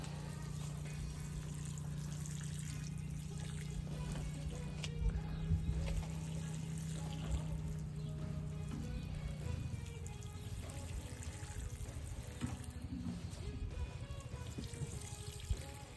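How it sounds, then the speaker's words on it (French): Water pours steadily into the soil around tomato plants in a garden, a continuous trickling splash heard close, with a low hum in the background and no talking. "Ouais, j'arrose mes tomates."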